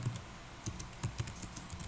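Quiet keystrokes on a computer keyboard, soft scattered taps at an irregular typing rhythm, close but faint.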